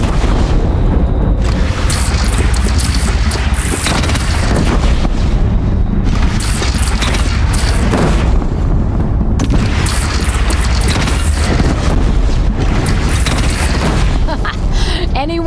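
Cannon fire in the video game Horizon Zero Dawn: several loud, booming blasts that land a few seconds apart, with voices talking over the barrage.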